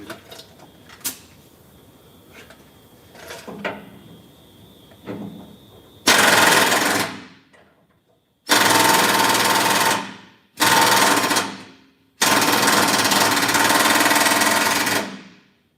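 A power tool unbolts a part in four loud, close bursts of whirring impact, each a second or two long and separated by short pauses, after a stretch of quiet clicks and knocks.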